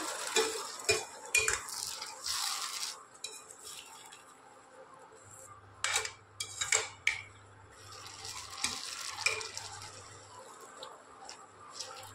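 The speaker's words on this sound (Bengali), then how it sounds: "এইভাবে একটু ভালো করে নেড়ে নেব এটা।" Stirring a poppy-seed and bean mixture in a pan: scattered clinks and scrapes of utensil against cookware, moderately close, with a faint low hum running beneath in the second half.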